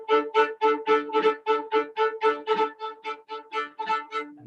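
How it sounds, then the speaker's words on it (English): Bulgarian folk tune Gankino Horo in an 11-beat bar, heard as a steady run of bright plucked or bowed notes over a held drone, repeating in quick uneven pulses, close and clear with no talking. "fell in love with this Bulgarian folk tune that I found that has a rhythm of 11 beats per bar that sounds like this"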